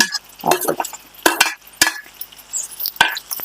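Chayote (chow chow) pieces stir-fried in a pan for chutney, with repeated sharp scrapes and clinks of a utensil against the pan over a light sizzle, close and fairly loud.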